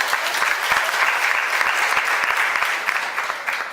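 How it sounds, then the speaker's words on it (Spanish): Audience applause fills a room during a talk on selfishness versus Christianity, dense and steady, moderately close, fading slightly near the end. "Un aplauso, por favor."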